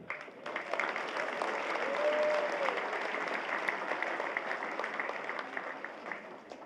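Audience applause at the Philippine Military Academy commencement exercises in Baguio City, a large crowd clapping steadily and evenly throughout, sounding somewhat distant and moderately soft, with a faint voice briefly audible early on.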